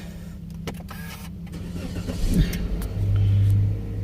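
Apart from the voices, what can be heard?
automatic car engine being started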